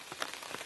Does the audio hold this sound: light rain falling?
yes